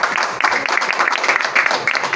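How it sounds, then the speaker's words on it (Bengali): A crowd at a pigeon club event applauds a little girl with brisk, close clapping that patters steadily throughout, with a voice speaking over it. "এই সামনে সবাই বাচ্চা মেয়েটার জন্য সবাই হাততালি দাও।"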